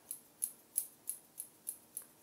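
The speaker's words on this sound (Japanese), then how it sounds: "頭の形に合わせて下からまずは切る" Hair-cutting scissors snip a teen's semi-long hair during a round graduation haircut, eight crisp, evenly spaced metallic clicks about a third of a second apart, close and clear against a quiet room.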